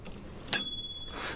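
A small bell taken from a disassembled microwave is struck once, a bright metallic ding with a thin ringing tone that lingers, followed by a soft rustle.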